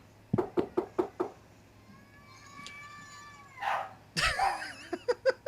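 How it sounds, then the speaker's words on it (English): Several sharp raps on a door are followed by a rising cry or whine, then a dog barks loudly close by in a burst, ending with more knocks. "There's a dog!"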